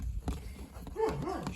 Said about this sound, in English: I wish that dog would be quiet